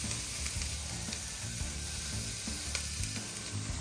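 Chanterelle mushrooms sizzle steadily in a frying pan, a dense continuous crackle with occasional soft stirring taps, fairly close and with no voices.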